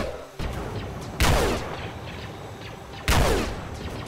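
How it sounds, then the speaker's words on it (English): Two loud, echoing blasts of gunfire ring out over a constant background of distant shooting in the Roblox Clone Wars game on the Felucia map. "I'm getting shot at quite a bit"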